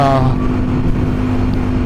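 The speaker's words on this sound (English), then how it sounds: "I don't know what kind of RPM I'm at, but it's revving pretty high." Suzuki DRZ400 motorcycle engine revving high while cruising at about 65 mph on the highway with altered gearing, a steady loud drone with wind rush throughout.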